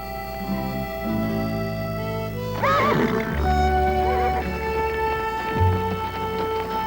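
A wild mustang lets out a loud, quavering whinny midway, rising above a steady sustained musical tone that runs throughout.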